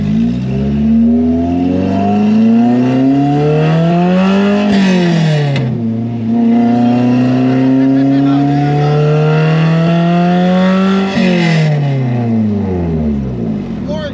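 A 1990 Honda Civic EF hatchback with an open megaphone-style header revs hard, its engine and exhaust climbing in pitch, dropping, then rising again in two long loud pulls; voices talk over parts of it.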